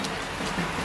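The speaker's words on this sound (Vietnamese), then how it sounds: "trời đang mưa rất là ngon luôn" Rain falls steadily outside a home, a soft, even hiss with no voices.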